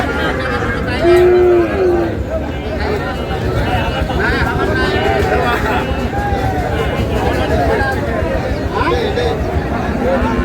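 A Friesian or crossbred bull calf gives a single drawn-out moo near the start, over the constant babble of a crowd talking at a busy cattle market in Munshiganj, Bangladesh.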